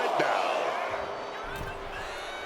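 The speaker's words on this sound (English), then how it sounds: "Mark Henry is getting this crowd riled up right now." Arena crowd noise from the WWE 2K26 wrestling video game swells into a roar behind a commentator's voice, a steady wash of cheering and shouts with a few louder whoops.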